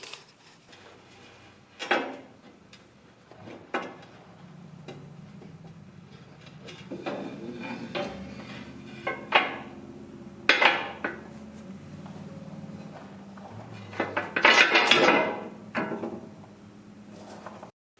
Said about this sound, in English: So I'm going to take the foot pan, try and put it in place, and start the bolts on it.